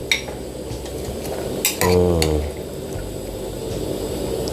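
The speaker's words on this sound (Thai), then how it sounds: "ขั้นตอนต่อไปเอาเป็ดลงเลยครับนี่" A duck drops into a pot of boiling water with a brief splash and clatter against a low steady bubbling hiss.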